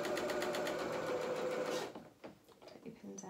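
Sewing machine stitching a dress skirt onto its bodice, running fast and steady for nearly two seconds before stopping, followed by quieter handling noises as a person talks.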